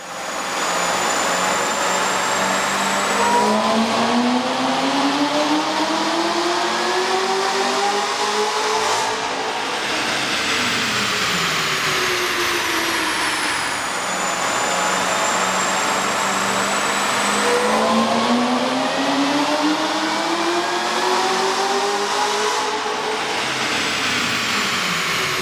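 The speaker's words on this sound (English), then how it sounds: "With the air intake installed, we ran the vehicle on the dyno to test the sound comparison versus the stock intake." A Chevy Corvette ZR-1 with a 6.2L engine and an aftermarket air intake runs on a dyno. The engine drones loud and steady, and its pitch rises and falls through repeated rev sweeps with no talk over it.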